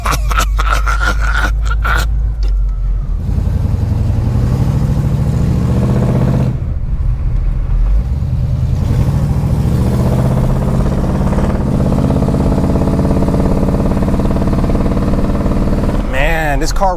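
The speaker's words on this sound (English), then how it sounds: "Man, this car runs so smooth." A 1986 GMC Caballero engine runs loud and close, with the steady low drone broken by several sweeping revs that rise and fall, while people talk over it.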